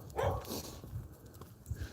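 A yellow Labrador puppy gives a short bark or yip nearby outdoors on a residential street, then a few faint softer sounds follow.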